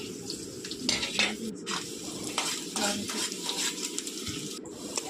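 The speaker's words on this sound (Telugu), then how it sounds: "మళ్ళీ ఆనియన్స్ వేసేసి మంచిగా మిక్స్ చేసేసేయండి." Onions stirred in hot oil with biryani spices in a kadai, a steady sizzle of frying with bursts of scraping and stirring, close and moderately loud, no talking.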